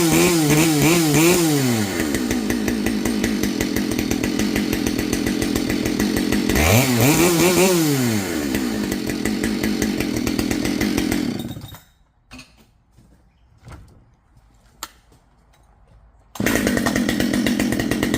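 A ported Ripsaw 572 XPG chainsaw with a full wrap heated handle starts cold and runs loud and close, with two revving surges. It drops to near silence around the middle, with a few faint knocks, then roars back up.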